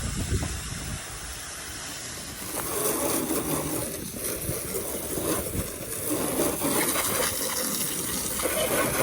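Running water hisses and gushes steadily as a car gets washed, a continuous spray with slight surges and no pauses.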